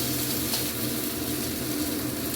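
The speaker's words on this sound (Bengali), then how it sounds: "আমি ঢ্যাঁড়স আলুটা ভাজছি" Steady frying sizzle of okra and potato in a covered pan, a constant crackling hiss with occasional faint clinks, close by and alone.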